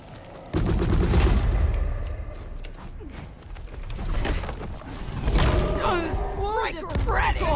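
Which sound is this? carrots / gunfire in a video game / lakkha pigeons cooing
gunfire in a video game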